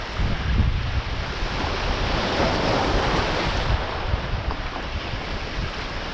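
Strong headwind roars steadily across the open water at a shoreline fishing spot in Quezon, Palawan, a constant gusty rush blended with surf, loud and close with no voices.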